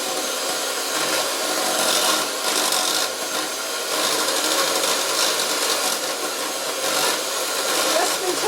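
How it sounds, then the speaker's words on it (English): An electric beater churns a butter mixture for oat bars, a loud, steady whirring and grinding drone that lasts throughout with slight surges. "We're going to take a beater and we're going to beat that together."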